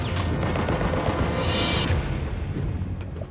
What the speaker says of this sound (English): easy targets in the barrage of German bullets